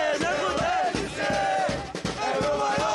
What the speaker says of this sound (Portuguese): a torcida não para de cantar